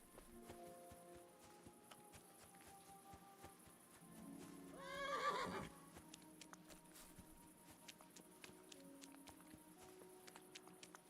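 A horse in the video game Kingdom Come: Deliverance II whinnies once in the middle of a quiet scene, with faint hoof clops and light ambient tones around it.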